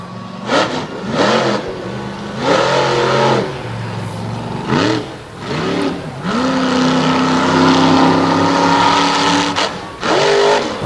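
A monster truck with bald tires revs hard in mud during a Renegade monster truck event in Susquehanna, Pennsylvania, the loud engine repeatedly surging in bursts of rising revs, then holding a longer roaring pull before another sharp blip.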